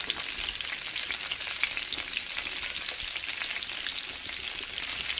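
Vegetables, potato and pointed gourd, frying in oil with salt and turmeric, giving a close, steady, crackling sizzle with faint stirring scrapes and no talking.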